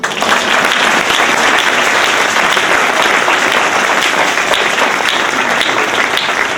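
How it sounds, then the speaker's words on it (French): A church congregation applauding, a steady dense wash of clapping that continues without a break for several seconds, with faint crowd voices mixed in. "On acclame le Seigneur."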